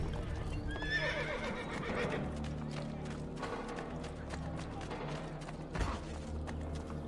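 A horse in the video game Assassin's Creed: Brotherhood whinnies loudly, then its hooves clip-clop steadily along a busy street amid game ambience and clatter.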